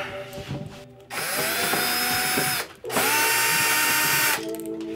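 A power drill bores into an IKEA standing desk in two sustained, loud bursts, its motor whining up to speed with a short pause between runs and faint mechanical clicks before and after.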